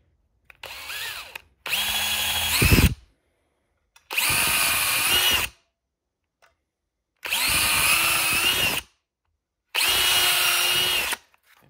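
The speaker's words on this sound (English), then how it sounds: "I'm just going to drill the pilot hole in this side." A power drill runs in four separate bursts of a few seconds each, loud and close, whining steadily as it bores a pilot hole into wood, with short pauses between.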